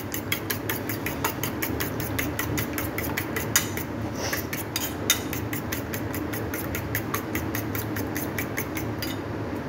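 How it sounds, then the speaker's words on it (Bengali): A whisk or spoon beats an egg in a bowl for a rice-flour and jaggery pitha, tapping out a steady fast run of light clicks against the bowl over a constant background hum, with no talk. "ডিমটা ভালোভাবে আমি আলাদা করে ফেটে নিচ্ছি"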